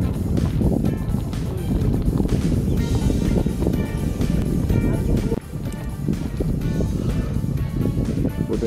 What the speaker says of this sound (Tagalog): Buti lang mahangin.